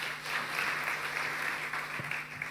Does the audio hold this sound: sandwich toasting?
no